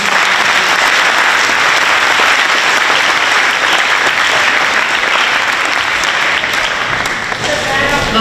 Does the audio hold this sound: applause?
yes